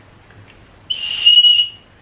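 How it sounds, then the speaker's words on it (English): A single short, shrill blast from a small wrist-clipped whistle, close and loud, with a breathy hiss around the tone, preceded by a faint click. "It's got a whistle."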